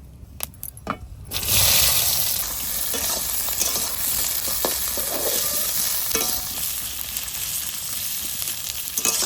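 Round-cut onions dropped into hot mustard oil tempered with mustard seeds and dried chili; a few clinks, then a sudden loud sizzle that settles into steady frying with occasional stirring clatter.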